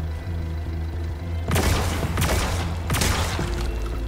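Gunfire in the Zombotron video game, a few loud booming shots with rumbling impacts over a steady low background hum.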